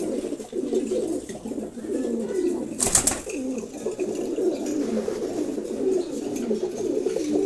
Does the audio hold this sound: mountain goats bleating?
no